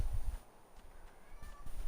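A cat meows briefly in the horror video game Alan Wake's American Nightmare, a short faint call over a low rumbling game ambience.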